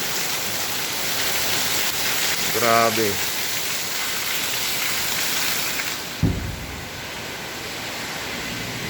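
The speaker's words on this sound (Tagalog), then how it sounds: "Baha na po dito sa daanan ng simbahan. Ayan, oh, mga kapatid, ang pakalakas ng tubig." Heavy rain pours steadily onto surfaces by a flooded church pathway, loud constant hiss with rushing water, while a voice briefly exclaims and a short knock sounds near the end.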